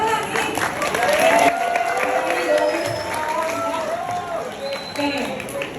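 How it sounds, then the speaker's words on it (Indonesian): Students at a high school nutrition talk clap and cheer, a dense mass of applause mixed with voices and shouts throughout, fairly loud and indoors. "Tepuk tangan lagi."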